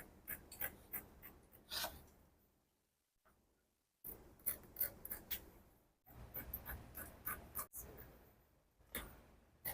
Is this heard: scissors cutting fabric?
yes